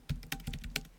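Someone types on a computer keyboard, a few quick, soft key clicks in a short, quiet burst.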